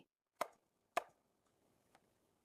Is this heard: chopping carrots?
yes